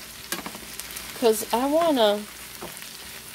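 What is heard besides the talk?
frying onions and potatoes in a pan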